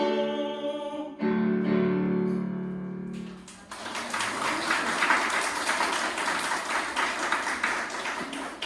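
A church congregation at a Sunday worship service breaks into applause after a sustained sung or played note fades, the clapping building into a dense, steady wash from many hands around the room.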